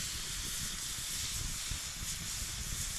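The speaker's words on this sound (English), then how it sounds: "a nice sizzle" Steady, quiet hissing sizzle of steak frying in a hot pan outdoors at a Scottish Highlands campsite, continuous and even throughout, with no voices.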